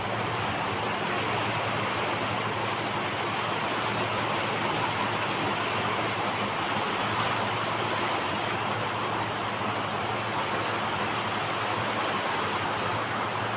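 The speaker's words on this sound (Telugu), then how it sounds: "చాలా ఫుల్ వర్షం." Heavy rain pours during a thunderstorm, a dense, unbroken roar that stays loud and even for the whole stretch, with no voices.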